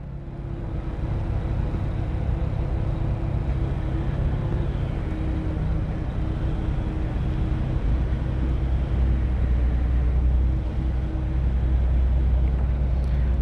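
A crane slews its boom to shift a tire, a continuous loud mechanical drone with a low engine hum that deepens toward the end, no voices over it.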